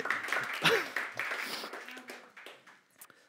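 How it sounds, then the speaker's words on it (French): An audience applauds at a church Christmas gathering, scattered clapping that is loudest at the start and thins out over a few seconds as a voice briefly comes in. "C'est la première fois qu'on m'applaudit pour avoir pris un téléphone."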